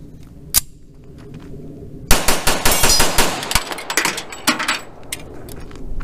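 Gunfire from a 1911 handgun loaded with a Mec Gar magazine at a shooting range: one loud shot, a pause, then a rapid string of about a dozen sharp, close reports with ringing echoes.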